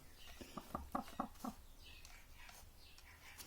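A light Brahma hen suffering from Marek's disease and partial paralysis gives a short run of soft, rhythmic clucks up close, followed by quieter scratchy rustling against a faint background.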